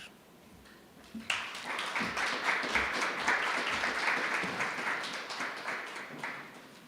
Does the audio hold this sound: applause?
yes